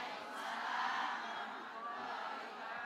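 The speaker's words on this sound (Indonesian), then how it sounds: "Tepuk tangan buat Habib Bagir." An audience in a studio roars and cheers in a sustained wash of many voices, moderately loud and steady, without distinct separate claps.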